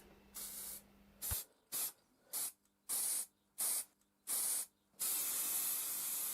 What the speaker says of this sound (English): I decided to use a rattle can for this rather than the airbrush.